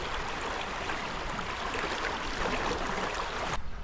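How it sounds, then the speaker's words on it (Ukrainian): Steady broadband rush of a small stream flowing over massive rocks on the eastern shore of Khortytsia island on the Dnipro, constant and fairly loud throughout, with no voices. "Маленький струмочок ледь сочиться крізь масивні скелі."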